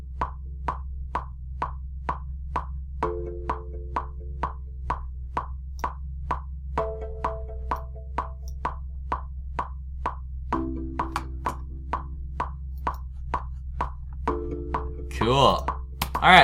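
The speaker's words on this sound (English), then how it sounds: "they have a delay fully set up already on our plucked nylon guitar" Plucked nylon-string guitar notes repeat in a steady pulse with a delay effect whose wet signal is raised, so echoing repeats trail each pluck over a low sustained tone, with brief extra note clusters throughout.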